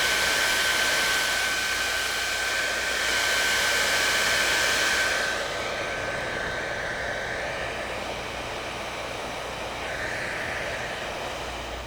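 A T3 AireLuxe hair dryer blows steadily on long, straight hair, a loud continuous whooshing hiss that shifts slightly in pitch and drops a little partway through as the airflow changes, with no voices.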